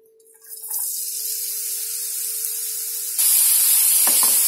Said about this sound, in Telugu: ఇప్పుడు నెయ్యిలో ఇది వేసేసుకొని బాగా వేయించుకోండి